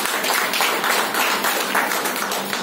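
Audience applause at a health talk, dense continuous clapping from many hands filling the whole moment, loud and close with no voices over it.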